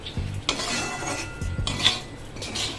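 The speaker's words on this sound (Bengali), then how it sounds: "ঘি দিয়ে সুজিটা ভেজে নিলে সুজিটা খেতে খুব ভালো লাগে" Semolina toasting in ghee in a pan, stirred with a utensil, brings repeated scraping and clinking strokes of the spoon against the metal over a low frying hiss, all close and fairly loud.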